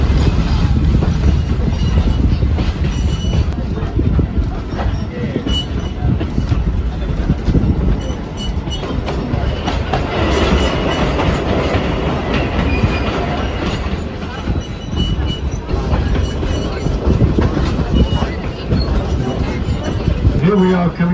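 A train rolls steadily along the tracks, a loud continuous rumble with rhythmic wheel clatter and occasional squeals, heard from inside a carriage.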